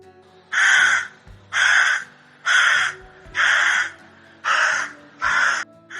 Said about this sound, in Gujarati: કાગડો તરત જ ગાવા માંડ્યો